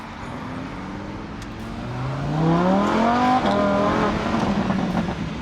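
A car engine revs hard and climbs through the gears, its pitch sweeping upward and growing louder before easing off.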